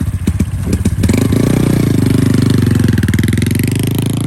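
A motorcycle engine cranks with a few uneven bursts, then catches and settles into a loud, close, steady rumbling idle.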